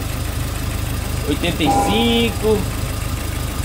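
A Toyota Hilux engine idling after a coolant reservoir replacement, a steady low rumble running throughout while someone talks over it for a moment.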